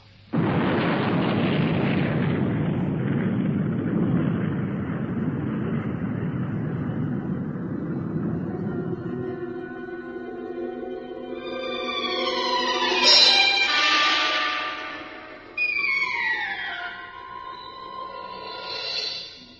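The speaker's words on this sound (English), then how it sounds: "Starship Far Centaurus liftoff in 10 seconds." Rocket liftoff of a starship: a loud, broad rumbling roar that holds steady for several seconds, then thins into layered rising and falling tones and whooshes.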